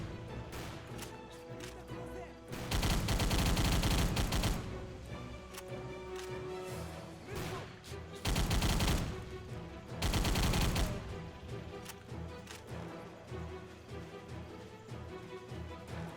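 Gunfire in a shooter video game rattles out in several loud, dense bursts from short trigger taps, separated by quieter stretches of background game sound.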